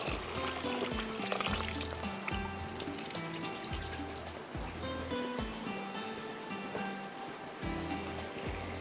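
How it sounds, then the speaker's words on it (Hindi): Excess water being poured off cooking rice for beef pulao, a continuous splashing trickle of liquid with uneven drips and pattering, without speech. "इसका थोड़ा सा पानी निकाल लेते हैं।"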